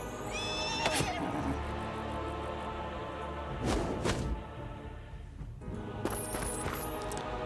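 A horse whinnies in the fantasy strategy game Heroes of Might and Magic: Olden Era, set within soft orchestral game music with a few sharp hits and impact sounds around it.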